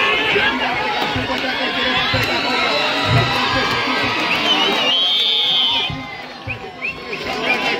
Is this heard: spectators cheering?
yes